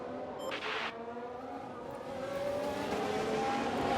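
A Formula 1 race car overtaking in the F1 Manager 2022 video game, a loud engine drone with rising pitch building steadily as the car pulls alongside.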